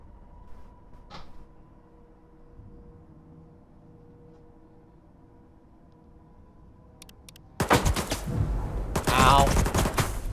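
Gunfire in the video game STALKER 2: after a long, quiet hum, loud bursts of rapid automatic fire break out near the end and continue in dense volleys.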